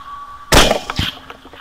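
A single sharp, loud gunshot blast cracks out at wild hogs after a quiet hum, followed by a brief echo and a few softer thuds as it fades.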